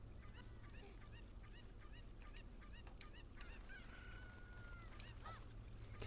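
A cucco chicken in The Legend of Zelda: Ocarina of Time gives repeated squawking clucks in a steady rhythm, with a brief drawn-out crow midway, over a constant low game hum and no talking.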